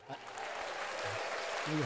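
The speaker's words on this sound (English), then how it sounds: "I have applause." Canned applause played from a soundboard during a live show, a steady wash of clapping lasting under two seconds, moderately quiet, with brief voices at the start and end.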